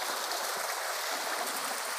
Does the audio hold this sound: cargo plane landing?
no